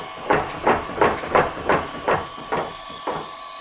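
A Beaudry power hammer, a rare blacksmithing machine, runs in a steady rhythm of about nine evenly spaced, hissing thumps, close and fairly loud, with no talking.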